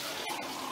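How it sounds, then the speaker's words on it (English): Water poured from a cup splashes steadily into a bathtub being rinsed after stripping a non-slip coating, a continuous close wash with brief dips. "let's go ahead and rinse the tub out with your cup"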